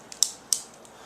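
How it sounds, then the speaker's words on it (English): An X-Acto knife slicing into a large cardboard box, heard as two crisp, scraping cuts with a fainter tick before and after, close and fairly quiet. "Figure out where my X-Acto knife is, and we are going to be cutting into this monster."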